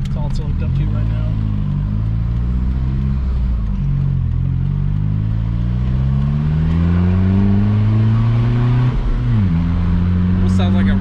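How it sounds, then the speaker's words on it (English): A modified diesel Volkswagen Jetta TDI engine revs up and down repeatedly, rising and falling in pitch, loud and close with a rough, throaty rumble. "Almost sounds like a regular gasoline car."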